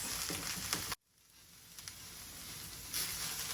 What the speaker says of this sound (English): okay, and then we'll just add all the Brussels sprouts here. And give them a good toss.